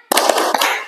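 A class of students claps together in a brief, loud burst of the rhythmic tepuk semangat cheer: a few sharp, close claps that blur into a ragged flurry of hands.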